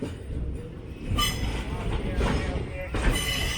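Indian Railways 12081 Jan Shatabdi express rolling onto the Bharathapuzha river bridge near Shoranur, with a steady close rumble of wheels and carriages and a few clanking jolts under faint voices.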